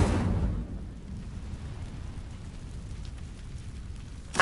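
Incendio, a fire spell cast in Hogwarts Legacy, bursts out as a loud whooshing flare at the start, then fades into a low crackling rumble that lingers, ending with a brief sharp hit.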